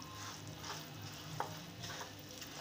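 Sesame seeds being stirred into hot jaggery syrup in a pan with the gas off, a soft continuous hiss with gentle scraping and one sharp spoon tap midway.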